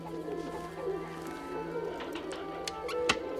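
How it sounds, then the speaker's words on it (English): Caged pigeons cooing softly and repeatedly in a low steady murmur, with a few sharper clicks and taps near the end, no talking. "Grab a pigeon. Blue cage."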